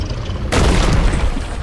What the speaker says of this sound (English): Jeez, explosions.